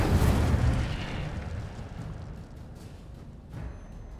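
A fire spell cast in Hogwarts Legacy, a loud burst of roaring flame up front that swells and then trails off into a fading, rumbling crackle.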